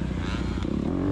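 Motocross motorcycle riding on a dirt track, its engine a close, steady rough drone with a rising pitch toward the end of the short burst.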